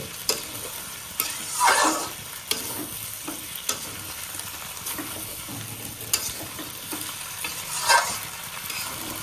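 Jackfruit curry with spices sizzles in oil in a pan, the frying hiss running throughout while a utensil knocks and scrapes at irregular intervals, with a couple of louder stirring swishes and no talking.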